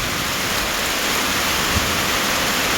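Heavy rain pours down steadily, a dense, loud hiss of drops hitting surfaces with no pauses and no voices.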